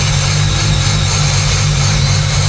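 A steady, low engine rumble from an idling car drones throughout, close and loud, with a constant idling hum and no talking.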